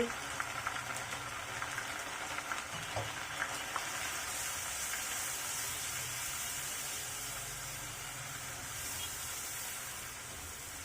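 A paste of mustard, green chili and salt sizzles in a pan: a steady, close, bright frying hiss that holds evenly throughout, with a few faint clinks of stirring.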